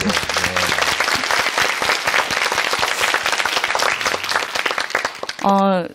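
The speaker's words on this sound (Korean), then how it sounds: "박수 한번 보내주세요." A live lecture-stage audience in Korea claps in a dense, sustained burst that fills the hall for several seconds, then breaks off abruptly, with a short tonal musical note or voice at the very end.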